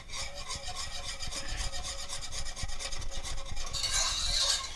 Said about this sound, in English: I still have it on medium-low heat, and I'm whisking it.